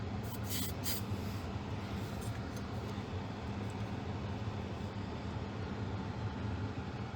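Aerosol primer spraying onto the inside of plastic model aircraft fuselage halves for a Spitfire Mk 1 kit, a steady, close hiss that runs unbroken throughout.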